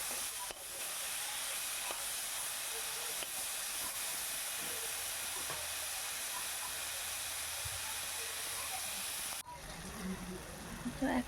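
Vegetables fry in a hot pan with a steady, loud, broad sizzle and hiss that runs without a break, then thins and changes near the end.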